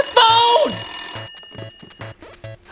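In a video game, a landline telephone rings in short repeated electronic trills spread across the few seconds, with a brief voice near the start.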